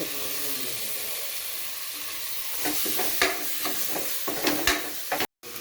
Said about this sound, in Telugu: చింతకాయ తొక్కు మసాలా అన్నీ కొంచెం బాగా ఫ్రై అయినాయి కదా.